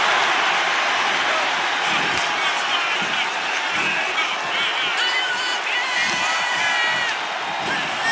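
Wrestling arena crowd on a televised wrestling show cheering and whooping loudly and continuously, a dense roar of voices that never drops out.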